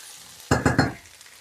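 Peppers sizzling in a pan, punctuated by three quick scraping stirs in a row, then a quieter sizzle trailing off.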